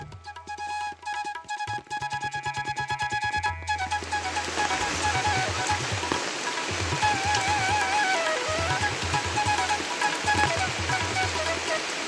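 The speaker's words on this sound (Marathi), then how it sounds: "आता पाऊस वाढायला लागलाय" Steady rain hisses across the scene at a temple in Shevare, Devgad, Sindhudurg, its broadband patter thickening and growing denser after the first few seconds, with a low rhythmic rumble underneath.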